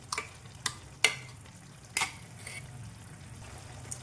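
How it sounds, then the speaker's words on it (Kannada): Ground coconut paste is added to half-cooked ash gourd in a pan for majjige huli and stirred, giving a few faint, sharp spoon clicks and scrapes over a soft, quiet simmer. "ರುಬ್ಕೊಂಡಿರೋದು ಹಾಕ್ಕೊತೀನಿ"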